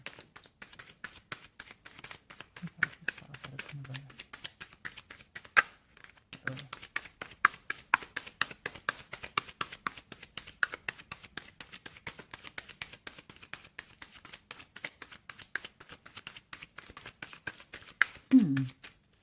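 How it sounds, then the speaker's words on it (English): Rapid riffling of a deck of tarot cards, a long run of crisp rhythmic flicks with a brief pause midway, close and fairly quiet, no talking. "I'm a shuffler who shuffles until I get a card"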